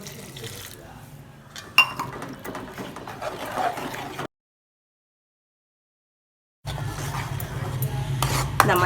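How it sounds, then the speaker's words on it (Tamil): A maida flour white sauce is stirred in a pan over a low flame, with soft scraping and a bubbling sizzle up close. The sound breaks off into a few seconds of silence, then the stirring resumes. "நல்லா சிம்மில் வச்சு நல்லா கிண்டுங்க."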